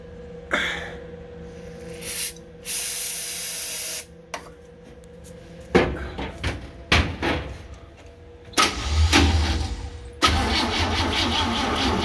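A 1966 Chevy van engine being cranked with starting fluid sprayed in: hissing spray bursts, then repeated cranking attempts that catch briefly and sputter before a rougher running roar near the end, close and loud.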